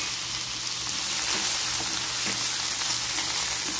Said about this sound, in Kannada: ಆಲೂಗಡ್ಡೆನ ಸ್ವಲ್ಪ ಬೇಯಿಸಿ ಇಟ್ಕೊಂಡಿದ್ದೀನಿ ಇದನ್ನ ಒಂದ್ಸರಿ ಫ್ರೈ ಮಾಡ್ಕೊಳ್ಳೋಣ